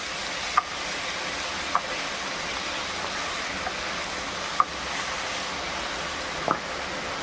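Chhatu mushrooms stirred in a pan, giving a soft steady sizzle with four sharp isolated clicks of a spoon against the pan, fairly quiet.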